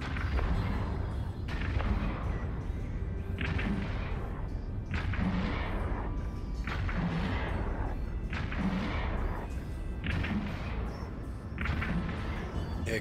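Ship weapons firing in the space game Eve Online, heavy booming volleys repeating at a steady rhythm of about one every one to two seconds over a constant loud rumble.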